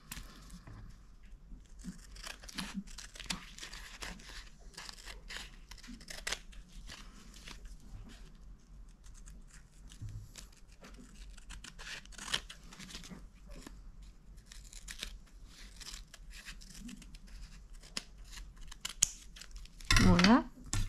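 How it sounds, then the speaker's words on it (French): Scissors snip along the edge of paper while crafting a junk-style photo album, a steady run of soft close cuts and rustling, with a sharper louder snip near the end. "avec mon ciseau, je vais venir découper"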